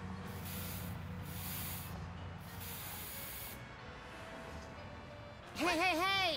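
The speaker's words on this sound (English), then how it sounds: "You're gonna wanna take your spray paint." Spray paint hisses from a can in the Sam & Max video game, several bright bursts of spraying in quick succession, followed near the end by a short warbling cartoonish effect.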